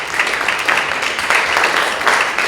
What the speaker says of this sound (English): You ought to give yourselves a big round of applause